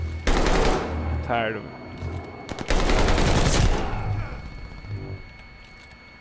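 Pistol fire in a Call of Duty Vanguard match: bursts of rapid shots in two loud clusters, with game effects between them, and a voice talking briefly over the action.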